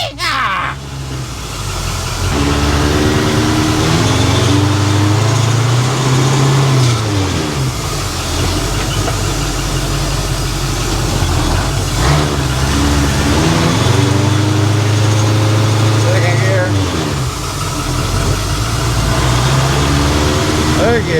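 A Ford cabover truck in a custom hauler build runs its engine steadily throughout, a loud low drone that rises and falls with revs, heard from inside the cab with speech over it.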